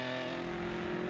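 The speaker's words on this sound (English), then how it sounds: "Derek Nelson, in his rear-wheel drive BMW," A rear-wheel drive BMW rally car races flat out on a forest rally stage, its engine note held steady and loud through the whole short moment with no voices.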